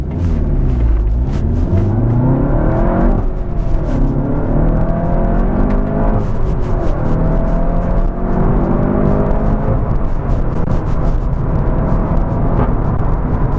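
Volkswagen Golf GTI Clubsport S accelerating, its engine note rising and falling loudly through several pulls as the car is driven hard, heard from inside with a constant road rumble.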